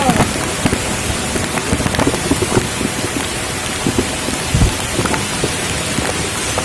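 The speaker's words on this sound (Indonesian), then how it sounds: "hujan angin" Heavy rain pours steadily while wind gusts during a fishing outing by a flooding river, a dense continuous wash with scattered louder drops and low rumbling bursts throughout.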